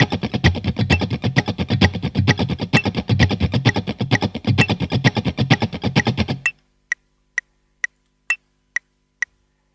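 Funk guitar plays a 16th-note rhythm exercise of fast, tight, percussive muted strums for about six seconds. The strumming then stops, leaving a steady metronome click ticking alone.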